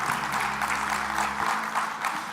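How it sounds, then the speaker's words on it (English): Applause from a seminar audience at a cybersecurity workshop session, a steady, fairly dense patter of clapping that holds evenly for a couple of seconds before thinning slightly. "Donc on va vous applaudir et on va vous prendre en photo, s'il vous plaît."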